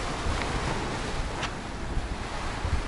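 Stormy sea at Tuapse on the Black Sea coast, with broad, steady roar of surf and gusting wind buffeting the microphone, continuous and fairly loud with no voices.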